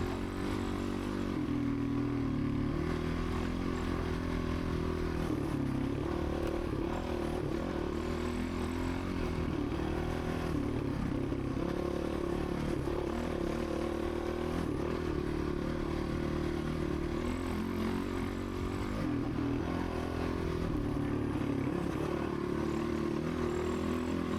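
A motorcycle racing through desert terrain, a continuous loud engine drone heard from the rider's position, with rattles and scraping over rough ground throughout.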